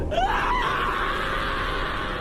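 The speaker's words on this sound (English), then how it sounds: "the man on the floor woke up and began screaming horrifically" A man screams horrifically in a long, strained, sustained cry that rises and then holds, loud and close, used as a horror story sound effect.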